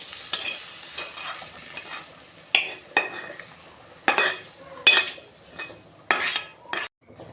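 Vegetables being stirred in a hot wok, with loud scraping and metal clatter of the spatula in irregular strokes over a gentle frying sizzle, close to the pan.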